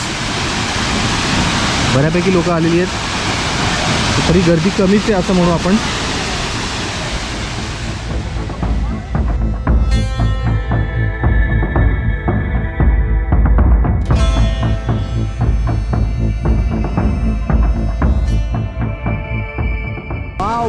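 Dhangar waterfall near Badlapur pours heavily, its loud, steady roar filling the whole stretch while a person talks over it close by.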